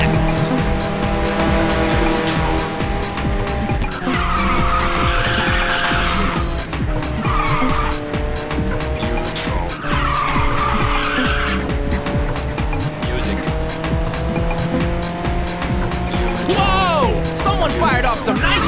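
A race car in Ridge Racer 6 fires its nitrous boost, engine roaring loud and steady with repeated tire squeals and skids, while a voice talks over the continuous racing noise.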